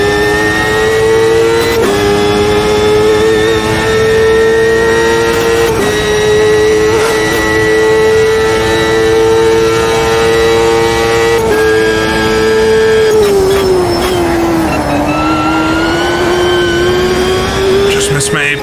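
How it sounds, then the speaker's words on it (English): A 1995 CART IndyCar engine in the racing game Automobilista 2 holds a loud, steady high-revving drone down the front straight, with brief gear-shift dips and a falling pitch near the end, no talking over it. "I'll let you listen to this car for a second as we come on the front straightaway to start the final lap."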